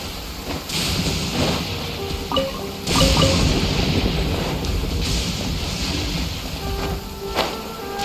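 Heavy rain in the video game Genshin Impact, a steady broadband rush that runs through the whole stretch, loud and close, with brief louder swells and faint game tones beneath it.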